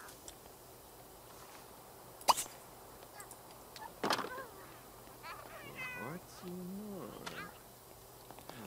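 A cat meows in The Sims 3 life-simulation game, with a few faint, drawn-out meows in the second half over quiet room tone, after two brief sharp knocks.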